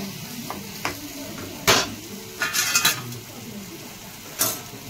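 Koi fish go into a bubbling yogurt curry for doi koi, with a low steady sizzle and several sharp metal clinks and scrapes of a utensil against the pan, heard close with no talking.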